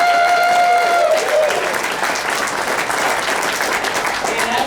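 Sustained audience applause at a sheriffs' liberty rally in Kalispell, Montana, a dense steady wash of many hands clapping at full loudness from start to finish, with no voices cutting through.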